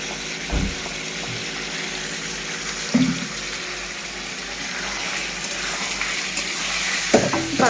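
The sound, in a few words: masala spices added to mutton curry, stirring and frying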